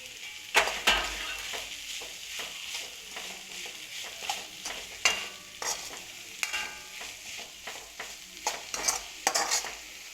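Chopped spring onion dropped into hot tempering oil for vegetable fried rice, giving a steady sizzle broken by repeated scraping and stirring strokes from a spoon in the pan, close and moderately loud, with no talking.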